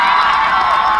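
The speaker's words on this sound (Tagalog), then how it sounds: "magpalakpakan po na may kasamang sigawan" A live audience at an outdoor music festival comedy set cheers and shouts together in a loud, continuous crowd roar lasting the whole moment, with no clear separate claps standing out.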